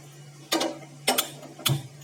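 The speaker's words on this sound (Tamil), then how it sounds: "நம்ம கேஸ் ஆன் பண்ணிக்கலாம்." A gas stove's igniter clicks on at a kitchen hob before cooking, giving three sharp separate ticks about half a second apart over a steady low hum.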